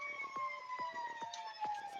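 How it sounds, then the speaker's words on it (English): An ambulance siren wails in repeated rising-falling sweeps, sounding distant and steady beneath sustained background music. "That ambulance behind this music sounds way more terrifying than the actual music is"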